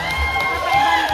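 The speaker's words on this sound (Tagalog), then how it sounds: "Pumalakpak muna." Audience clapping and cheering at a game-night event, a loud, dense wash of claps, whoops and shouting voices heard close up over a short burst.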